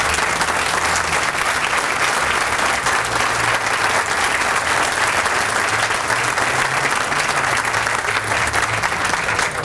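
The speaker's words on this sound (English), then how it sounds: "give the veterans in our audience a hand of applause" Dense, sustained applause fills a large audience at a university alumni recognition event, steady and loud throughout with a faint voice beneath.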